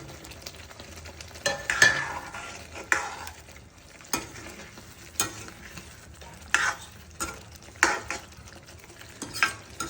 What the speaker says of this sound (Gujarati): તો હવે આપણે એમાં બાફેલા બટેટા નાખીશું।